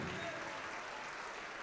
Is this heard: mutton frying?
no